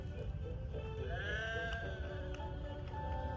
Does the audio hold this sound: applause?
no